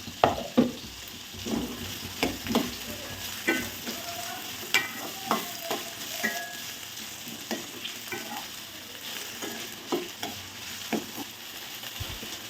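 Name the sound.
potatoes and beans added to a pan, frying and stirring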